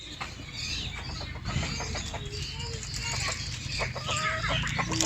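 Fancy crested hens cluck and chatter close by in Bahria Town Phase-7, with busy repeated clucks and short squawks over a steady background hum, while someone talks throughout.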